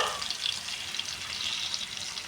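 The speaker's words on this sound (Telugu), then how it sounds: "అలా ఒక 10 మినిట్స్ ఆయిల్లో ఫ్రై అయితే మసాలా అంతా ఫిష్కి మనకి చక్కగా పడుతుంది" Small Godavari fish coated in masala fry in hot oil with a steady, close hissing sizzle that crackles throughout.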